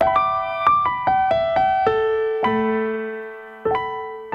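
Casio AT-3 keyboard playing customizable microtones: a quick run of bright, plucky notes in an unfamiliar tuning, then longer held tones and a final struck note, close and clean with no talking.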